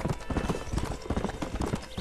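Hooves of a horse galloping in Red Dead Redemption, a rapid continuous clip-clop rhythm, close and fairly loud, with faint game ambience beneath.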